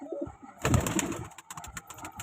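Soft pigeon coos and scattered bird calls at night while the pigeons feed, starting quiet, then a louder stretch of cooing and flapping-like rustle, with brief pecking clicks later.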